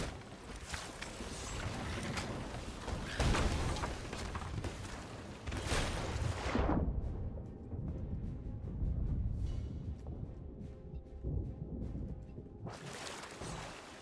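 Skeleton ships exchange cannon fire in the pirate game Sea of Thieves, a run of loud booming blasts with rushing bursts, heavy rumble and churning water noise between volleys, no talk.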